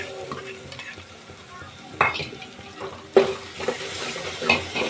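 Tomato paste stirred into prawn fry gravy in a pan, a soft steady sizzle under a few louder scraping stirs and wet splashes, close, with no voices.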